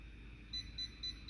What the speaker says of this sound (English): You heard it beep, that means it's done